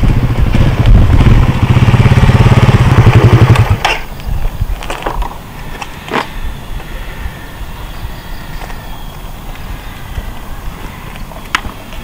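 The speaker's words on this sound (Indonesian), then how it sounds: "Itu dia tadi sensasi berkendara dari generasi terbaru Suzuki All New Satra F 150." A 2016 Suzuki All New Satria F150 motorcycle engine drones loudly and steadily for a few seconds during a road test ride, then drops away, leaving quieter scattered clicks and knocks.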